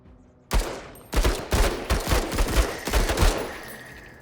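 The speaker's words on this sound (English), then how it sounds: "maybe we just take 2 low accuracy shots over here" Gunfire in the video game Menace rattles out as a loud string of about seven sharp shots in quick succession, close and punchy, trailing off into a faint hum.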